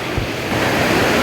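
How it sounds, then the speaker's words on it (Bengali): Water rushing at Mayabi waterfall in Sylhet, a steady broadband roar that swells slightly toward the end with no voices. "মায়াবী ঝর্ণা, সেই আসলেই মায়াবী।"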